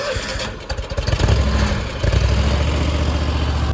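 A lawn mower engine, freshly filled with gas on a farm before mowing tall grass by a barn, runs steadily and close by with a low, continuous drone that surges slightly after the start.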